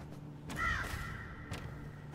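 Crow caws from the Gwent card game, two or three short harsh calls near the middle over a steady low game hum, with brief thumps around them.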